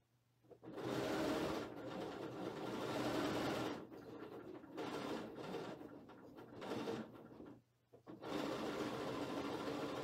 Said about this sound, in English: I want to sew the other side